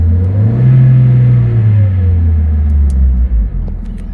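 A car engine revs up loudly nearby, holds a deep rumbling roar, then settles back toward a lower idle.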